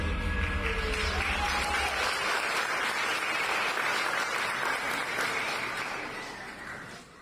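Audience applause at a ballet recital: a dense, even wash of many hands clapping fills the room, holding steady and then slowly thinning out toward the end.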